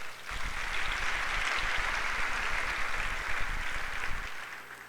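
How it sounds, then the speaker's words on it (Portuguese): A church congregation breaks into sustained applause during a family worship service, a dense, even roar of clapping that rises quickly, holds for several seconds and then cuts off, with no voices heard over it. "Dá um aplauso aí ao Senhor."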